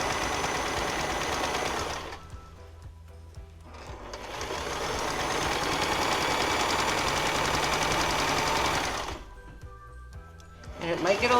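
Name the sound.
sewing machine stitching along a quilt edge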